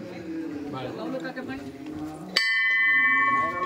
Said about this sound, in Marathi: घंटी वाजवायची